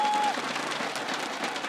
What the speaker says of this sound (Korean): 우리 박수로 초대 어서 오세요.